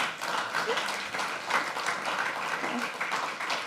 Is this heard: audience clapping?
yes